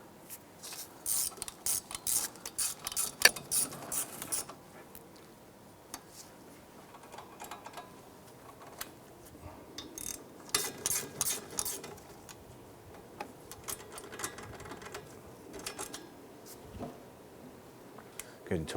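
Ratchet clicks in quick bursts while caliper bolts on a 2001-2007 Ford Escape front brake are tightened, with quieter pauses between the bursts.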